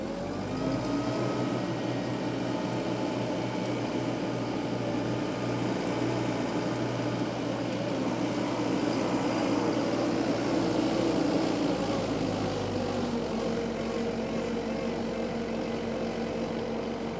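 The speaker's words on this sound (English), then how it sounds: "You heard it idle up on its own." A LeeBoy 8510E asphalt paver's engine idling up on its own, a continuous close diesel drone with steady low hum that rises in pitch and intensity mid-clip before settling to a slightly changed tone, no talk.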